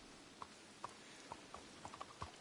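Horse hooves clip-clop faintly at an uneven walking pace in Red Dead Redemption 2, a string of soft hoof strikes over steady background ambience.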